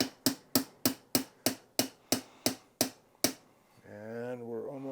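A roll pin punch is hammered to drive the bolt catch pin into an AR-15 lower, with about eleven sharp, evenly spaced taps, followed by a person speaking.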